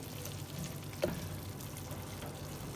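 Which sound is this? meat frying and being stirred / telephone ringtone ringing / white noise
meat frying and being stirred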